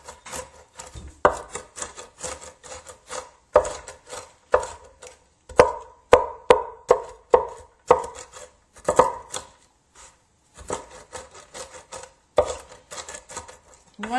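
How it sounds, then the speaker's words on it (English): A knife chops nuts for chocolate chip cookies on a cutting board in quick bursts of sharp, close knocks, broken by brief pauses while the pieces are gathered together. "it also helps to give me a nice irregular chop to the nuts"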